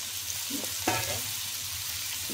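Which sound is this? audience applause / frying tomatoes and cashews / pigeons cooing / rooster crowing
frying tomatoes and cashews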